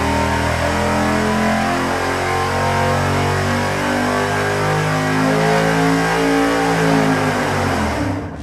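A 614-horsepower race engine roars steadily on a dynamometer at high load, its sustained, loud harmonic drone holding for about eight seconds with rising and falling pitch bands, then cutting off abruptly at the end.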